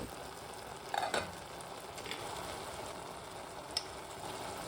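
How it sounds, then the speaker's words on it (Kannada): Curd being stirred into cooked ash gourd in a pot for a buttermilk curry, with a steady soft sizzle and a couple of brief scraping spoon strokes near the start, no talking. "ಇವಾಗ ಇದಕ್ಕೆ 4 ಟೇಬಲ್ ಸ್ಪೂನ್ ಮೊಸರನ್ನು ಹಾಕಿ 1 ಸುತ್ತು ತಿರುಗಿಸಿ ತರ್ತೀನಿ"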